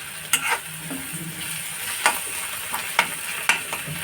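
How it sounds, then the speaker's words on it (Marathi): Onion and masala stir-fried in a pan for a Konkan dried-fish dish, with a soft continuous sizzle broken by several sharp spatula scrapes and taps against the pan. "आता कांदा हा लाल झाला मसाला हा परतला कांदा"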